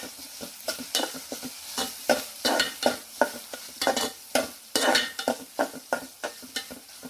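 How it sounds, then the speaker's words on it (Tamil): Onion, tomato and chili powder frying in a South Indian tempering, with a steady sizzle under repeated scraping stirs of a spoon against the pan, close and lively, no talking. "வெங்காயம் நல்லா வேவுனதுக்கப்புறம் தக்காளி, மிளகாத்தூளையும் சேர்த்துக்க"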